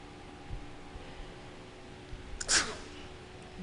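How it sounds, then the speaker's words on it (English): A single sharp sneeze bursts out close to the microphone during an otherwise quiet indoor stretch, loud and brief against faint room hum. "I feel a sneeze coming on,"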